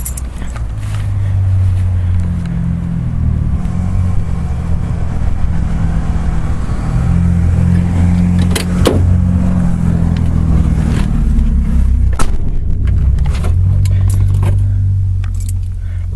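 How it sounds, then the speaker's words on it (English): A 1982 Ford Granada with a factory propane (LPG) engine turns over and settles into a steady low idle, its rumble loud and continuous throughout with a couple of sharp clicks partway through. "We're going to go ahead and start the motor for you real fast."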